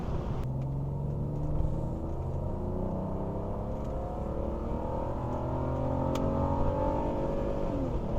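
A 1980s BMW car engine hums and builds under throttle, a low continuous rumble with rising pitch as it accelerates, steady and fairly close with no talking.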